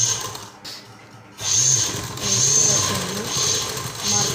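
A sewing machine stitches along a folded pant waistband in a series of steady, close runs separated by short pauses, with a brief near-silent gap early on.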